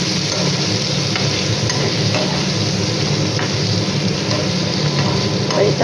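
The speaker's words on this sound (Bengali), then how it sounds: "এই যে পনিরটা ভাজা বসিয়ে দিয়েছি" Paneer frying in a pan sizzles loudly and steadily, a close, even crackle with faint scraping stirs and no talk.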